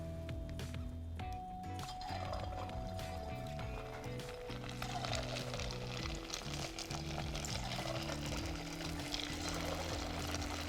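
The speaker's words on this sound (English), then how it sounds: "I'm going to keep on piping some more and frying some more." Piped dough fries in a fryer with a continuous loud sizzle and bubbling of hot oil, steady throughout, while background music plays along underneath.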